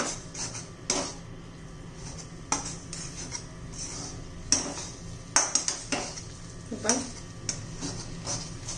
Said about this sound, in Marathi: आता एकसारखा हलवत राहायचं आहे आपल्याला, खाली लागू नये म्हणून.